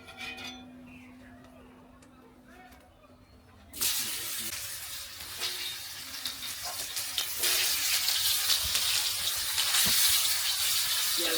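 Fish dropped into hot oil in a pan: after a quiet start with faint background sounds, a loud, dense sizzle bursts in and keeps crackling and hissing steadily, growing slightly stronger toward the end.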